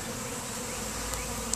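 Continuous buzzing of a honey bee swarm, a steady droning hum at moderate level with no voices.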